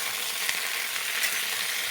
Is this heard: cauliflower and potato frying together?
yes